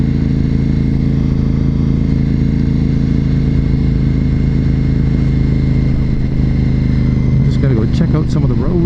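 A motorcycle is ridden on Canadian roads, with a loud steady engine drone and wind rumble throughout, and someone talking over it.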